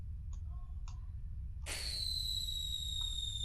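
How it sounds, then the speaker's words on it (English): A firework explodes in the physics sandbox game People Playground: one sharp, loud burst after a few faint ticks, followed by a sustained high, hissing whistle-like ring as the blast decays, with no talking. "Firework?"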